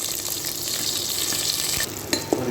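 Stuffed brinjal frying in oil for a wedding-style brinjal gravy, a steady close sizzle throughout with a couple of brief utensil knocks near the end.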